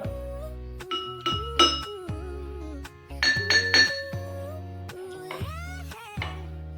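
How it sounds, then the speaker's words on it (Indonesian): A spoon taps drinking glasses holding different amounts of water, producing a quick series of clear ringing dings at varying pitches, close and alone with no talking. "Lalu kita pukul-pukul menggunakan sendok."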